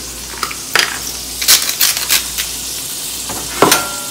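Ground meat sizzles and fries in a pan while a utensil breaks it up, with steady crackling under several sharp scraping and clinking strokes, close and fairly loud, no voices.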